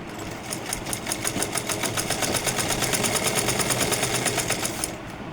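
A sewing machine stitches a frock during a tailoring class. Its fast, steady, rhythmic needle chatter runs for about four and a half seconds and then stops abruptly.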